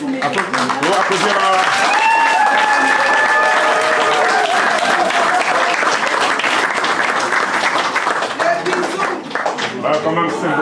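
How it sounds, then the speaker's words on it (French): Wedding guests at a Central African wedding reception applaud loudly and steadily, a dense wash of clapping over about ten seconds, with a voice talking and some whistle-like tones through the first half. "Applaudir"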